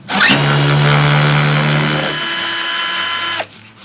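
A power drill spins out Torx screws from the bulkhead of a Ford Transit van during a camper conversion, giving a loud, steady motor whine for about three seconds before it winds down and stops.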